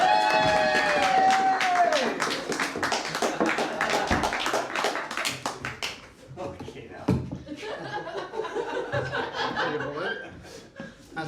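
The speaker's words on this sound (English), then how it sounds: "please start stamping their feet, clapping their hands, go wild and crazy for Dad Dan, the safety man!" A live comedy club audience claps, stamps and cheers, with dense rapid clapping and tapping mixed with laughter and a voice talking over the crowd.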